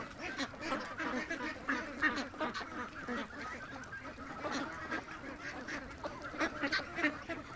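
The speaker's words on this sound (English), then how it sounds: "She's such a cute little duck." Up close, a pet duck quacks and honks again and again among the morning chores, a busy, uneven run of calls with light background noise.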